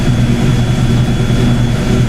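A Fox-body Ford Mustang engine runs steadily at idle in first gear as the clutch is let out. The droning hum is loud, close and continuous, with no talking.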